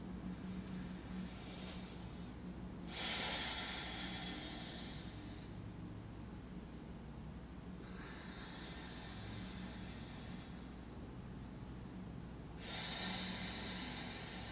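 Slow, deep yoga breaths held through a pose, three long airy exhales spaced several seconds apart, close and steady over a low background hum, with no talking.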